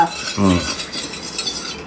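A utensil stirs and scrapes inside a pot of boiling ghee for biryani, the hot fat sizzling softly, heard up close with no voices.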